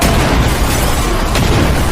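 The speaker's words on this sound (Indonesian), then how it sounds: "seorang pria yang merupakan anggota dari salah satu keluarga korban nekat meledakkan dirinya sendiri" Loud, continuous roaring blast filling two seconds as a man blows himself up aboard a plane in a film, a dense rumbling boom with no pause.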